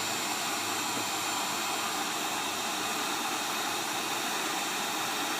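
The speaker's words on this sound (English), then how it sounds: "you're going to use your heat gun on high. You're going to heat up the port." A heat gun on its high setting heats a phone's charger port during a repair, a loud, steady, close rushing roar of blown hot air that holds constant throughout without pauses or voices.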